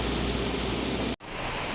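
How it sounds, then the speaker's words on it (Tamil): Heavy downpour from an all-day storm in Nagercoil, a dense loud roar of rain filling everything, cut by a brief dropout before resuming just as strong. "இன்றைக்கி காலையிலேருந்து ஃபுல்லாகவே ஒரே மழை தான்"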